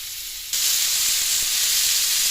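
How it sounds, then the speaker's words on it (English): Steak hits hot oil in a pan and instantly breaks into a loud, bright searing sizzle that holds steady and close, replacing a quieter background hiss. "Okay, my oil is hot, the pan is hot. I'm just gonna add the meat in."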